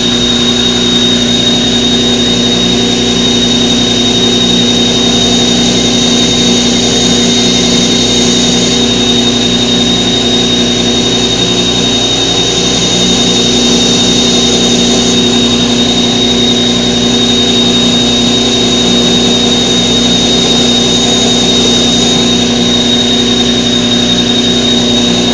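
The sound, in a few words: sanding scallops into a knife handle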